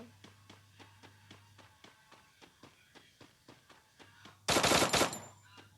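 Rapid in-game gunfire from the mobile shooter Free Fire, a steady string of evenly spaced sharp shots followed by a loud, dense burst near the end.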